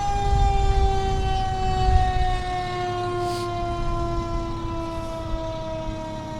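A volunteer fire department engine rolls through a Christmas parade, its loud wailing siren holding steady tones that slowly fall in pitch over a low rumbling engine, close and continuous with no talk.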